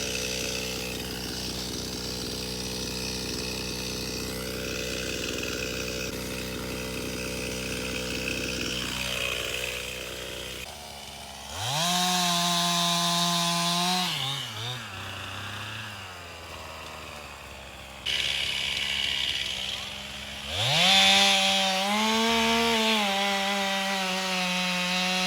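A chainsaw cuts down a tree on a homestead, steady revving through wood, then several loud high-pitched bursts as the engine climbs under load, with no talk.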